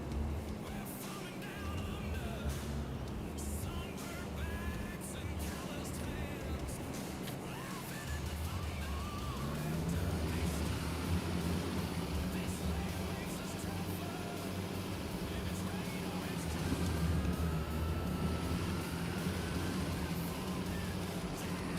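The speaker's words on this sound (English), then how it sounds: "Yeah, I don't like the motor sounds" A steady low truck engine drone from Farming Simulator 25 runs throughout, rumbling and droning evenly with occasional faint higher whines, loud and continuous.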